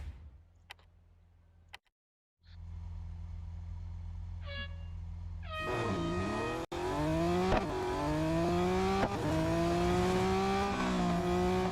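A Lamborghini race car in Real Racing 3 starts after a few quiet ticks, then its engine surges hard through a run of rising pitch sweeps as it shifts up through the gears, loud and close.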